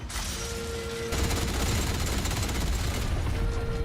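Turrets in the video game Atomfall open up with rapid, close automatic gunfire, a loud steady stream of shots that grows heavier and more dense after the first second, with a faint tonal hum beneath.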